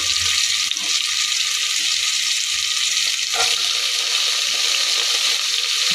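Carrots, potatoes and other vegetables hit a hot pan for pulao and set off a bright, steady sizzle with a couple of brief stirring clatters, close by, with no talking.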